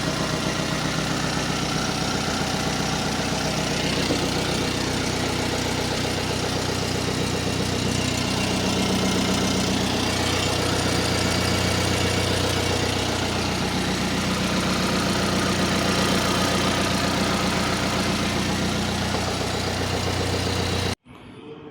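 A new Changan car's engine idles steadily and close by with a constant low hum and faint knocking texture, running unbroken for about twenty seconds before cutting off abruptly.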